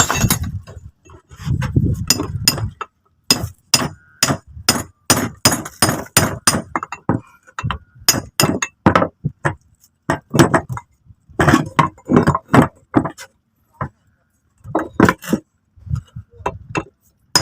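Metal-on-metal clanks of a sledgehammer striking a flattened diesel engine main bearing on a Dongfeng diesel, a long series of sharp, loud, irregular impacts with short pauses between bursts.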